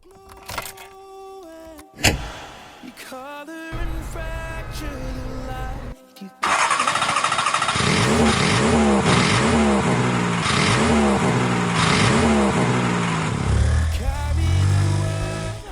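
A vehicle pulls away and accelerates hard, its engine rising through loud repeated revving sweeps after a few softer clicks and rumbles, with music and voices mixed over the roar.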